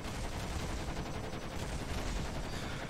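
Sustained, dense gunfire from three tank turrets in Kerbal Space Program with the BD Armory mod, loud and continuous throughout with no talk, a steady roar of rapid shots.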